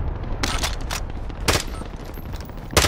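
Gunfire crackles in a shooter video game, with bursts of rapid automatic shots recurring in short clusters over a steady background, loud and close, with no talk.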